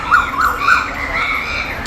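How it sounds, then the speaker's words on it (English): Crows gathered in a tree call with repeated harsh cries over a steady outdoor hiss, several caws close together near the start and middle, set against Yangon's Karaweik Palace grounds in Myanmar. "on this tree there are a lot of crows"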